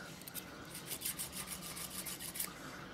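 Hand deburring of a freshly milled metal edge, a light rasping rub repeated in quick strokes, close and fairly quiet with no talking.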